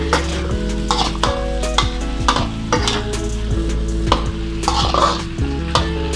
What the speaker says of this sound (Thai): ใส่ฟักทองลงไปเลยนะคะ ฟักทองลงไปผัดเลยค่ะ ผัดกับไข่เลยนะคะ